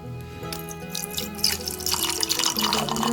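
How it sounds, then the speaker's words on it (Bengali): Water trickles and drips while water spinach (kalmi greens) is rinsed and sprinkled with water in a home kitchen, a steady close wet splashing with small droplet patter and no talk. "কলমি শাকটা একটু ধুয়ে হালকা করে একটু জল ছড়িয়ে নেবো"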